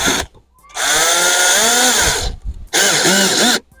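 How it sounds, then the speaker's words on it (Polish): A power tool drives small screws during roof work on a workshop build in strong wind. Two loud, close whirring bursts rise and fall in pitch, separated by a short gap. "kręcił tymi wkrętami małymi"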